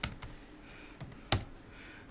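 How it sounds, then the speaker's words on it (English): Several sparse keystrokes on a computer keyboard click up close, with one sharper, louder tap near the middle and quiet gaps between them. "And now we can go over and type in Paul."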